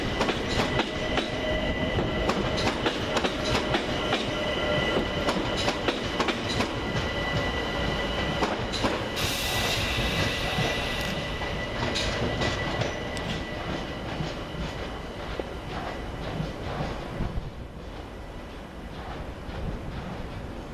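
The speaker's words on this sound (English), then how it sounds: "Departing on the far side with the 1532 London Overground service to Stratford is" London Overground electric train 378207 pulls out from the far platform at Richmond station, giving a sustained rumble with rhythmic wheel clatter and a brief high squeal, fading gradually as it leaves.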